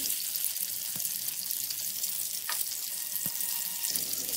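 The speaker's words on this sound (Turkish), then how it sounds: "Hiç bekletmeden kızgın yağını içine atıp kızartıyorum." Frozen slices of eggplant coated in egg, flour and breadcrumbs or cornmeal fry in hot oil, giving a steady, close hiss of sizzling with a few faint pops and no talk.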